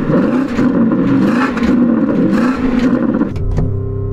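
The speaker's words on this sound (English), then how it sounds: "So I'm going to rev up this Porsche." A Porsche Cayenne GT engine revs hard, holding a loud, steady snarl against a roughly 4,000 RPM soft limiter for several seconds and then dropping back, heard up close and alone.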